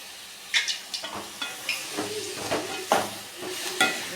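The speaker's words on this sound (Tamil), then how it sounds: "நல்லா வதக்கி விடுங்க கொஞ்ச நேரத்தில் நல்லா வதங்கிடும்" Mint and curry leaves sautéing in sesame oil in a pan, a light sizzle under repeated scraping stirs that come in quick irregular bursts, close and without speech.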